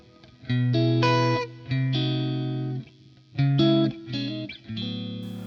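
Distorted electric guitar, a Fender Custom Shop Stratocaster through a glassy plexi lead amp tone, plays sustained chords and single notes in separate phrases, with a bright, crunchy tone and some reverb.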